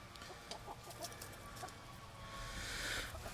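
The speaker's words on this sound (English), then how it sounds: "Hens do not share well." Hens cluck and squabble in short bursts at moderate distance, scattered fowl calls over a quiet farmyard background.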